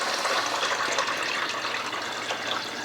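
Cold water pours steadily into a container while a turkey brine is mixed, a continuous close gushing splash with no talk over it.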